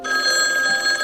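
A telephone rings in a scene from the film Throw Momma From The Train, a steady electronic ringing with bright sustained tones that hold through the whole short stretch, fairly loud and without talk.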